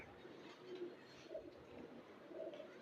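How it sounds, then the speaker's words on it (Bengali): Soft, low pigeon coos repeat a few times at a distance, faint over a steady background hum. "এই যে কবুতরটা মাসাল্লাহ খুবই সুন্দর একটা কবুতর"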